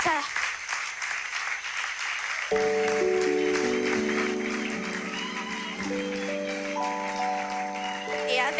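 A church congregation applauds its head pastor, a broad clapping wash that runs throughout, with sustained music tones coming in beneath it partway through.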